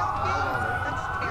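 Police sirens in the video game Watch Dogs wail steadily and loudly throughout, a continuous high tone with a low rumbling bed beneath.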